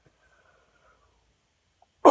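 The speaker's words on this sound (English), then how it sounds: "I'm sorry for the coughing." A single short, sharp cough bursts out close to the microphone at the very end, after nearly two seconds of near silence.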